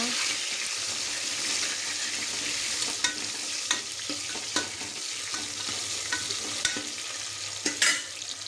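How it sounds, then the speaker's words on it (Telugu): Dried red chillies, broken by hand, frying in hot oil in a home kitchen, a steady sizzle and crackle with occasional stirring clinks and scrapes throughout. "వేగిన తర్వాత ఇవన్నీ వేసుకుంటున్నాను ఎండుమిరపకాయలు తుంచి వేసుకుంటున్నాను"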